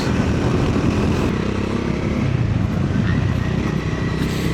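Triumph Scrambler 400X motorcycle riding over rough Indian roads, a continuous engine drone mixed with heavy wind buffeting and road rumble, loud and close throughout.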